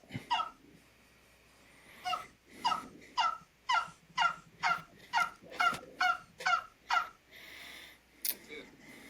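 A series of about a dozen evenly spaced, raspy yelping calls from a handheld turkey bone call imitating a turkey, close and fairly loud, with a brief squeak at the end.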